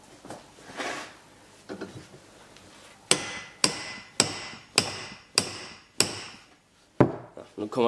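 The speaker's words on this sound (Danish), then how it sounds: "så jeg hammer den lige mere på" A part for a small homemade wind turbine is struck with a hammer: after a few quieter knocks, a run of seven loud, sharp metallic blows lands at an even, steady rhythm close by.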